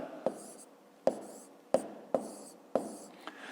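A pen writes on paper during a fifth-grade maths exercise: five or six sharp, separate strokes or taps come at uneven intervals, close and clear, with a quiet hush between them.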